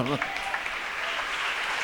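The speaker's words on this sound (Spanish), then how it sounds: "Dale un aplauso al Señor" Congregation applause for the Lord during a church service, a soft continuous patter of many hands heard at moderate distance after a brief spoken voice at the start.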